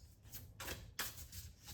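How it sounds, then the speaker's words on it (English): Several quick riffling bursts of tarot cards being shuffled, close and soft, about three flutters in under two seconds. "Let's do 2 more shuffles."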